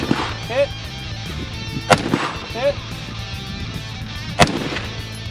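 Rifle shots at targets during a winter run-and-gun competition: two sharp, loud cracks a few seconds apart, with voices murmuring in between and under the shots.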